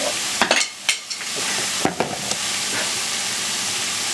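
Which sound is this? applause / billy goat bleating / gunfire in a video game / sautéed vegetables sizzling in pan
sautéed vegetables sizzling in pan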